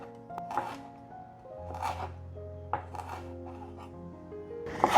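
A knife cuts ginger slices on a cutting board, giving a few sparse, light chops spread unevenly over the stretch, mixed with soft kitchen clinks and a steady low hum in the background.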